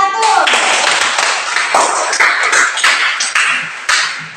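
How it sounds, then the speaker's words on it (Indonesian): Students in a classroom applaud a group of classmates, a dense burst of hand clapping with sharp irregular taps that stays fairly loud throughout and thins slightly toward the end. "Tepuk tangan untuk kelompok 1."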